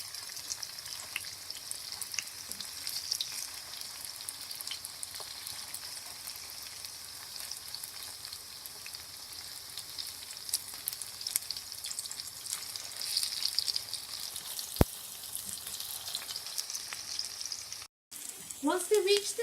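Rice cutlets fry in hot oil with a continuous, close sizzle and crackle that holds steady throughout, broken by a brief gap and a few clatters near the end.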